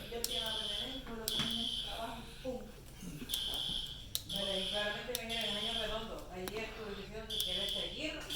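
A fire alarm system demonstration, with a simplex alarm sounding a repeated high buzzing tone in pulses throughout, under tonal, music-like sounds and background activity.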